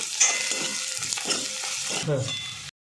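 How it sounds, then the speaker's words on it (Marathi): Spice paste with turmeric powder is sautéed in a hot pan, a loud close sizzle with rhythmic scraping stirs for nearly three seconds before cutting off abruptly. "आता याच्यामध्ये अर्धा चमचा हळदी पावडर चांगलं परतवून घेते"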